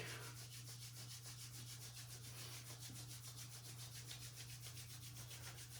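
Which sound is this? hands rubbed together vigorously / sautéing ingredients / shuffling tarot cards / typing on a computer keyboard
hands rubbed together vigorously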